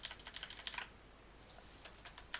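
Keys tapped on a computer keyboard to enter the Control, Shift and Z shortcut: a quick burst of close, crisp clicks, then a pause and a few more scattered taps.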